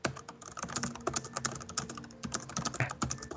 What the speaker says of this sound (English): He's typing his answer